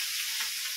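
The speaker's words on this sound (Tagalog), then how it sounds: "Kailangan na siya prito." Galunggong fish sizzles and crackles steadily in hot oil in a pan, a bright continuous frying hiss, heard briefly with no voices.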